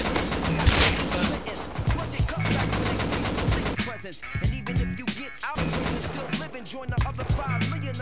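An AK rifle in Rust fires close by in rapid, loud automatic bursts with brief pauses between strings, as players talk over the shooting.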